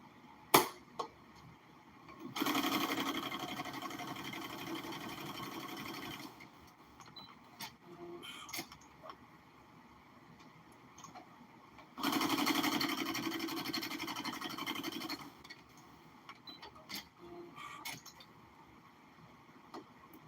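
A sewing machine zigzag-stitches small elastic onto a circle skirt in two steady runs of several seconds each, separated by quiet clicks and handling noises.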